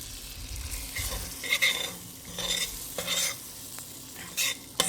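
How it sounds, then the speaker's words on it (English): Spices and butter sizzle and fry in a pan while a spoon stirs through them, with soft scraping strokes over a steady close sizzle and a few sharper clinks, no talking. "Says stir until the mixture is coated with butter."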